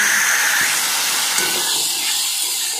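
Water poured onto spices frying in hot oil, a loud steady hiss of steam and sizzle filling the whole stretch, close by, no talking.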